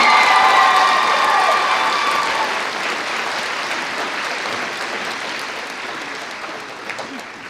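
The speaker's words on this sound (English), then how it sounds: "let's give a round of applause for Austin" An audience at a 2024 graduation ceremony breaks into strong applause with some cheering, loudest at the start and gradually tapering off.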